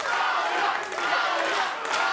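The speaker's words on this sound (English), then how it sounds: "This crowd here in Miami getting behind Claudia Zamora" A fight crowd in Miami roars and yells continuously in a loud, dense wall of cheering, with no clear pauses across the whole stretch.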